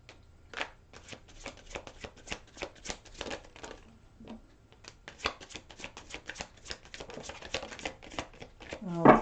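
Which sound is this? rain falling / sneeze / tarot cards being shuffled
tarot cards being shuffled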